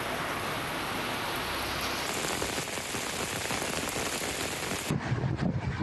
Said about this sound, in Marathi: विजांच्या खडखडाटासह गोंदियात जोरदार पाऊस झाला।